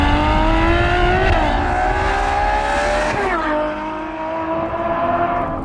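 A Ferrari F12 TDF engine screams up through the revs, dropping briefly at each gear change before climbing again, loud and close, with no voices.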